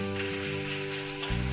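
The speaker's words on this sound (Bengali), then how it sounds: "গ্যাসের আঁচ কমিয়ে আদাটাকে একটু ভেজে নেব।" Grated ginger fries on a low flame in hot oil with dried red chilli, panch phoron and hing, giving a soft, continuous sizzle heard up close.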